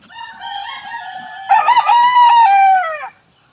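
An Allen Roundhead gamefowl rooster crows loudly and close, a single full cock-a-doodle-doo preceded by softer clucking calls, with nothing else heard.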